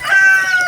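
Backyard chickens giving a short, close burst of clucking and squawking calls, about a second long, with no talk over it.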